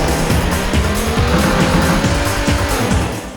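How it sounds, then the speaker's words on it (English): Racing car in the Sega Saturn game Daytona USA drifting, with sustained loud engine roar and repeated sharp tire squeals throughout, close and continuous. "doing sick drifts is all about placement and when you're starting the drift"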